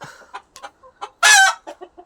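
Chickens in a netted coop cluck in short bursts, with one louder, drawn-out squawk or crow in the middle; several birds nearby, no talking.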